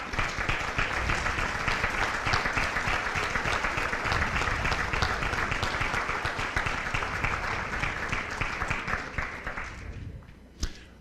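Sustained audience applause at an athletic Hall of Fame induction ceremony for inductees standing up, dense steady clapping from a large crowd that fades out near the end.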